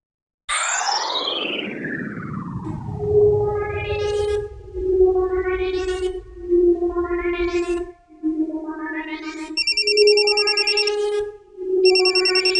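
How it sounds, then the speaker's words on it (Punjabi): A telephone rings with an electronic ringtone: a falling swept tone, then a loud series of evenly spaced tonal pulses that keep repeating, with no voices. "ਆ ਦੇਖੋ ਫੋਨ ਆ ਗਿਆ।"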